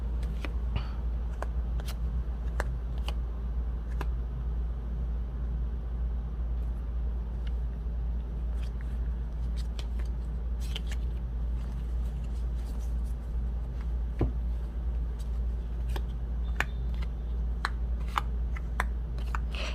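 Tarot cards are shuffled and drawn, with faint, scattered flicks and soft card snaps over a steady low hum in a quiet room.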